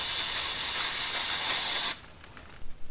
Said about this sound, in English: So the clutch basket nut, I'm going to clean it off with some brake cleaner.